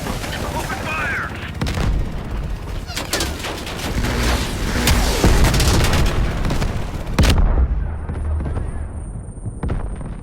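Dense sustained gunfire and booming blasts from a Call of Duty Black Ops Cold War battle, rapid shots layered over rumbling explosions with shouted voices throughout, thinning toward the end.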